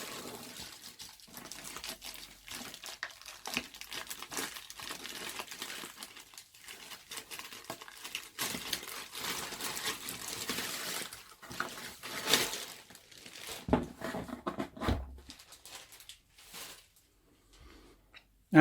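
Packaging for a Corsair K63 gaming lapboard being opened: steady crinkling and rustling of plastic and cardboard, close and fairly soft, with brief louder scrapes and tears and no talk.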